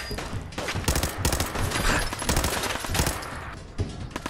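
Rapid, dense gunfire in Fallout 4 VR fills the whole stretch, a near, loud burst of shots with short gaps between volleys.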